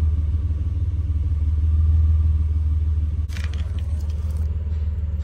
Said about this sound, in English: There's the car running.